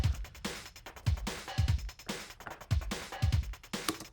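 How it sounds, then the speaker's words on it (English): A single hi-hat sample ticks along inside a drum loop, its crisp strokes sitting between punchy kick and snare hits in a steady, repeating groove with no talking. "I got that one hi-hat sound going right now."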